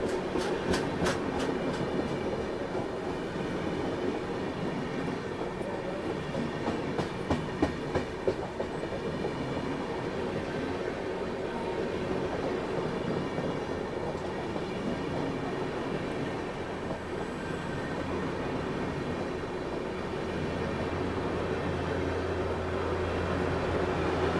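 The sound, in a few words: train passing on railway line, likely Golden Temple Mail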